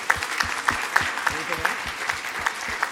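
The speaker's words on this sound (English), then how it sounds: "Let's give all of our sponsors a round of applause." Audience at a technology summit in Grand Bahama giving a round of applause for sponsors, moderate clapping with distinct individual claps standing out at a steady rhythm.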